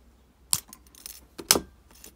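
Jewelry wire on a wire-wrapped swirl-and-curl pendant is snipped with cutters, giving two sharp, bright metallic clicks about a second apart, close and otherwise quiet.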